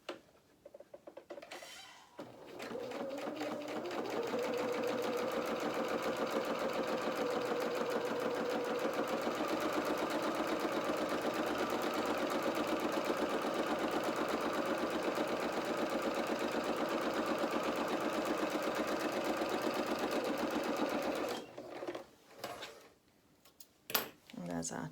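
A sewing machine runs a steady, even stitch along the sleeve of a doll dress, whirring continuously for about twenty seconds before stopping, close and clear with no one talking over it.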